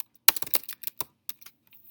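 Brief burst of typing on a computer keyboard, a rapid cluster of crisp key clicks followed by a few scattered single taps, close and clear in a quiet room.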